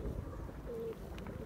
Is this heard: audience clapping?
no